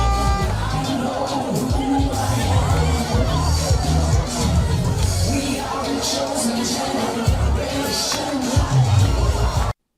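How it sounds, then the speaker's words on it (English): A large Kenyan crowd cheers in song and dance, a dense, continuous wash of voices, singing and whoops with occasional bangs, loud and steady throughout. "focus shifted to Truphena, with Kenyans cheering her up in song and dance"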